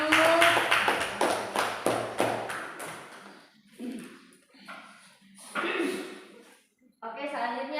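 A small classroom group claps at a student presentation on international trade, a run of distinct, rhythmic claps up close, followed by patchy voices and bumps.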